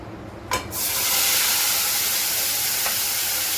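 Tomato slices dropped into two tablespoons of heated oil in a pan set off a sudden loud sizzle, which settles into a steady, bright frying hiss that lasts to the end.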